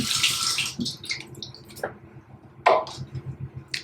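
Running tap water splashing as a face is rinsed during an evening skincare routine, in short, separate bursts with quiet gaps between them, close by and fairly soft.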